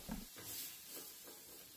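Ground meat with onion and tomato sizzles softly in a pan while being mixed, with faint scraping stir strokes over a steady low hiss; quiet and close, no talking.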